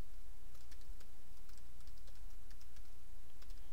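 Code is typed on a computer keyboard in short bursts of light, quick key taps over a steady low hum, with no voices.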